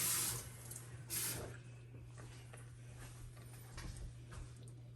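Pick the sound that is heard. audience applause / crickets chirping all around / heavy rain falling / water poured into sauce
water poured into sauce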